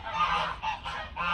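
Farm geese on a polar-cold day honk loudly and repeatedly at close range, several overlapping calls in quick bursts with no talking.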